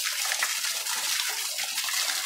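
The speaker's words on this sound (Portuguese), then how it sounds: "E o barulho aqui da orquestra da natureza, a água descendo do Manivela" Water flowing down a stream into a rock pool in a canyon, a steady bright splashing gush close by, continuous and fairly loud.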